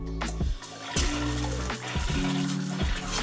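Bathroom sink tap in a hotel room running with air in the pipes, giving loud gushing water broken by repeated sputtering bursts and knocks as trapped air spits through, close by.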